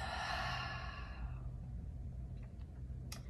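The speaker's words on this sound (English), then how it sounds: "Take one deep inhale through your nose and exhale through your mouth." A single slow, deep breath during a meditation session, drawn audibly in through the nose and then released as a soft airy exhale through the mouth. The sound is close and quiet, with no talking over it.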